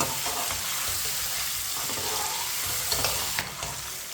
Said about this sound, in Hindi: अब इसे 1 मिनट के लिए चम्मच चलाते हुए पका लेंगे, भून लेंगे 1 मिनट के लिए।